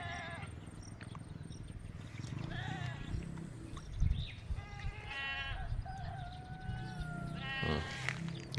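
Several goats bleat at moderate distance, repeated wavering calls scattered across the clip over a steady low rumble of outdoor background noise.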